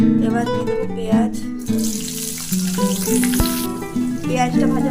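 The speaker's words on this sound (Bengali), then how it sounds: "পেঁয়াজটা ভাজা হয়ে গেছে, এবার আলুগুলো দিয়ে দেবো।" Onion frying in oil tempered with panch phoron gives a bright, broadband sizzle that swells for a couple of seconds mid-clip, mostly beneath steady background music.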